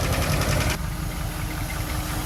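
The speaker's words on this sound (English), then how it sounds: "now it's idling low and smooth" A 1950 Pontiac engine idles with a steady, low, even rumble and no voices.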